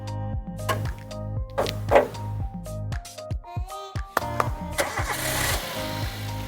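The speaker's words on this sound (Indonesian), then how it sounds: "Kita nyalain mesinnya." A 2011 Toyota Avanza G has its hood open as the engine cranks and catches, giving a short starter whir followed by a steady mid-pitched idle that settles close by, with no talking over it.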